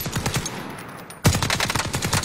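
Rapid automatic gunfire in a shooter video game, a burst of fast repeated shots, then a brief lull before a louder, denser volley starts abruptly and keeps going.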